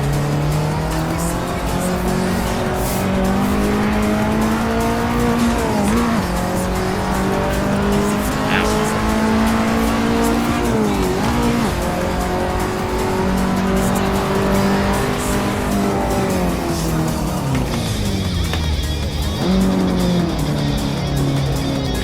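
Race car in Assetto Corsa under hard braking: a loud, close engine climbs and falls in pitch through repeated revs, with tire squeal rising over the roar across the run.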